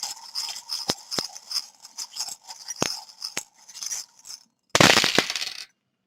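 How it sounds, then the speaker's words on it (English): A deck of charm reading cards shuffled and drawn by hand, giving soft papery riffles and sharp clicking taps with a brief louder flurry of shuffling near the end. "It is a little bit noisy, so bear with me while I shuffle and draw."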